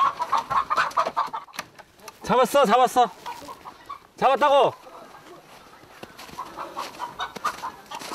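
Native Korean chickens being chased and caught give two loud, close bursts of harsh squawking, while people talk excitedly and breathe hard around them.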